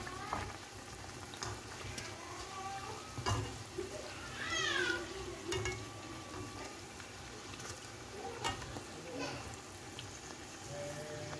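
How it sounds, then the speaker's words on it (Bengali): Puris deep-frying in hot oil, a steady crackling sizzle that runs throughout with a few clinks and knocks, while faint background voices murmur now and then. "পুরিগুলো এই যে ভেজে নিচ্ছে এখন"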